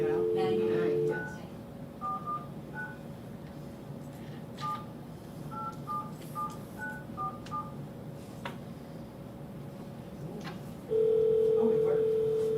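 Touch-tone keypad presses on a telephone at a school board meeting, a scattered run of short beeps over low room murmur, with a steady dial tone at the start and again at the end.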